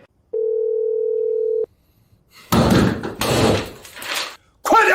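A steady telephone dial tone hums for about a second as a call is placed, then cuts off, followed by loud thumps and scuffling noises in a rural village drama scene.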